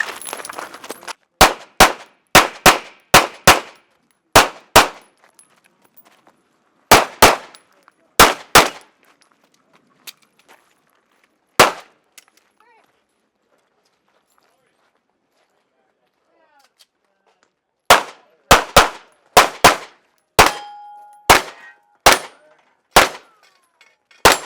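Rapid pistol shots crack out in tight strings during a USPSA match stage, several bursts with pauses between, some rounds ringing off steel targets, plus a brief tonal ding near the end; a person speaks during a quiet stretch.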